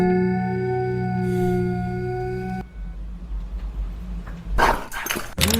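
Dog-like whimpering in a scary online video, heard as high, wavering whines and yelps near the end, after a sustained tonal drone and a stretch of low rumble.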